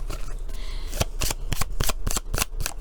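Tarot cards being shuffled by hand, a fast run of crisp riffling snaps and flutters heard up close, growing sharper and more rhythmic partway through, with no talking.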